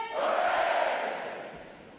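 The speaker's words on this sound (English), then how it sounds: "The adjutant lead all graduating divisions in 3 cheers for this morning's award recipients" Graduating U.S. Navy sailors at a boot camp graduation roar a loud massed cheer that swells and slowly fades over two seconds, one sustained crowd shout.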